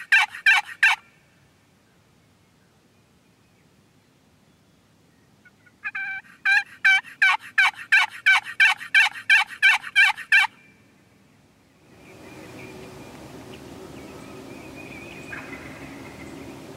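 A wild turkey gobbles in two loud, close rattling bursts, a short one and then a longer run of rapid notes, followed by a stretch of soft outdoor rustling.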